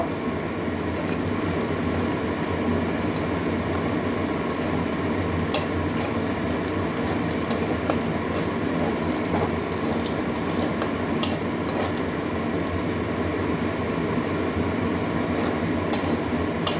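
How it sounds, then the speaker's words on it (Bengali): Lentil dumplings (bori) frying in hot oil, a steady close broadband sizzle and crackle that holds even throughout with no talk. "এবারে বড়িটা দিয়ে দিচ্ছি, ওই তেলের মধ্যে বড়িটা ভেজে নেব।"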